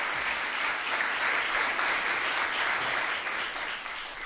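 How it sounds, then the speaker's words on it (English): A final round of audience applause for a professor at a law review symposium, a full, even roar of many people clapping that stays strong and steady for a few seconds before easing slightly. "we could just have a final round of applause for Professor Zhang."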